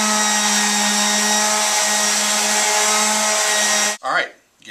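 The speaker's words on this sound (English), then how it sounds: "Going to give it a good sanding now, make sure everything's smooth." A power sander whines steadily and loudly for several seconds while sanding a wooden headboard, then cuts off abruptly, leaving a brief winding-down rattle.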